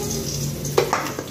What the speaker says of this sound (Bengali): এবারে আলুগুলো দিয়ে দিচ্ছি